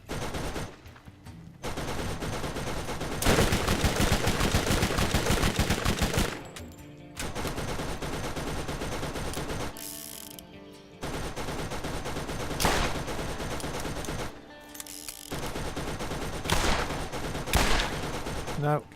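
Turret gunfire in the video game Borderlands rattles in long, loud automatic bursts separated by brief pauses, a sustained mechanical hail of shots.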